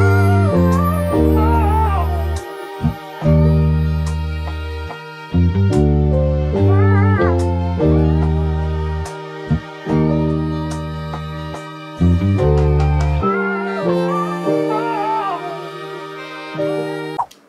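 A homemade vintage-style soul sample plays loudly, with warm sustained chords over a steady bass that cut off and restart in repeating phrases, a vocal-like melody weaving above, no talk over it.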